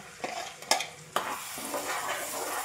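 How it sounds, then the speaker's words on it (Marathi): Ground spice paste drops into hot oil for a vada rassa curry and sizzles with a steady hiss, a couple of sharp spoon clinks and scrapes up close as it is stirred. "आता वाटलेलं मिश्रण टाकून घेऊ."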